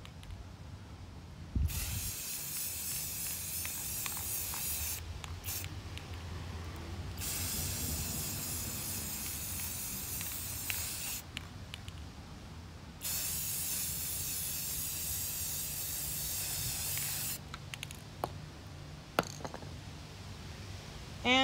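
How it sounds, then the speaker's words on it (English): An aerosol spray can paints a lawn sign over paper stencils outdoors in the wind. Three long, loud hissing bursts are separated by short pauses. "So let's spray our sign."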